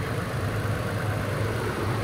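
A 2020 Toyota Tacoma SR5 Crew Cab 4x4 idles with a smooth, steady low engine rumble, close and continuous, with no voices over it.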